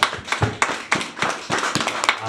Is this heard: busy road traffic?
no